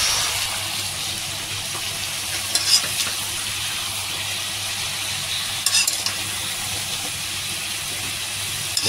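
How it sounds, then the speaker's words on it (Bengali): Pointed gourd being stirred into taro and potato already fried red in a pan, a steady close sizzle and hiss with a few sharper scraping stirs, no voices. "এখন পটলটাকে একটু নাড়াচাড়া ওর সঙ্গে করবো"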